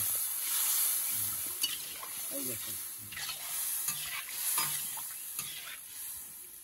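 Katla fish jhal curry simmers and fries on a stove with a steady soft sizzle, broken by repeated scraping stirs of a utensil against the pan; no one speaks.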